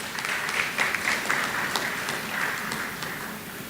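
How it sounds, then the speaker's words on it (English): Graduates applaud themselves at the Monroe College 2024 graduation ceremony, a soft, distant patter of many hands clapping steadily in a large space. "Please give yourself a round of applause."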